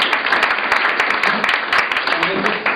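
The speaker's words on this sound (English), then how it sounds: "a round of applause for Paul" A round of applause at a presentation evening, loud, dense clapping from an audience with sharp individual claps, sustained without a break.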